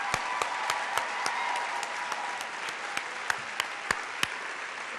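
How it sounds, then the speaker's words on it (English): Audience applause for the Odyssey bookstore staff at a book event, a steady dense wash of many hands clapping throughout, with a few sharper louder claps standing out near the end. "I really would like you to join me in giving the Odyssey staff a warm round of applause"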